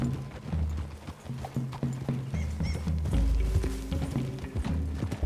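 Horses gallop through trees in Red Dead Redemption 2, their hooves drumming in quick, uneven clip-clop beats close by, with occasional snorts and game effects layered over.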